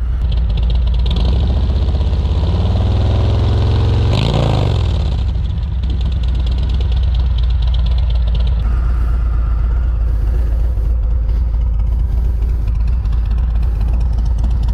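A 2019 Harley-Davidson Road King with Rinehart DBX45 slip-on exhaust rumbles loud and close, with a couple of throttle blips early on before settling into a steady, deep idle.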